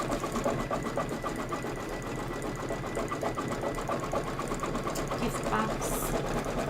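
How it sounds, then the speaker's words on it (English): An embroidery sewing machine stitches a Kimberbell Cup of Cheer design in a fast, even, rapid needle rhythm that runs continuously at a close, steady level. "This is 2 minutes of stitching."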